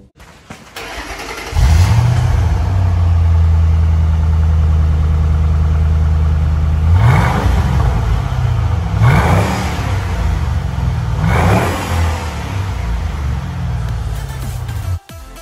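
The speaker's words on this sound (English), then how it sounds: "Here is an exhaust clip of what it sounded like before we installed the Borla attacks" A 2007 Ford Mustang with stock exhaust starts and idles with a deep exhaust rumble, then revs sharply three times before settling, loud and close with no talking.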